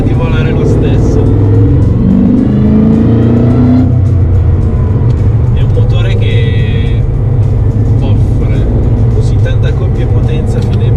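Mercedes SLR McLaren accelerating at partial throttle, a loud deep engine note rising in pitch through the revs before settling, with a person talking over it from inside the car.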